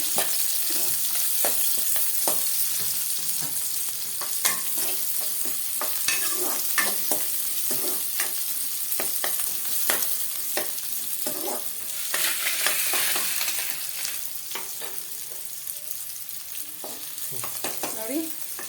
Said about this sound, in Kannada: 2 ಚಿಕ್ಕ ಈರುಳ್ಳಿ ಹಚ್ಚಿಟ್ಕೊಂಡಿದ್ದೀನಿ. ಈ ಥರ ಹಾಕ್ಕೊಂಡು ಫ್ರೈ ಆಗಬೇಕು